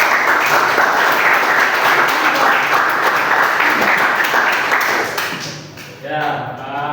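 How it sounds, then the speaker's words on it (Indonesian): A class claps together during an Indonesian economics lesson, producing steady, dense clapping for about five seconds that then fades as a teacher starts speaking. "Tepuk tangan semuanya."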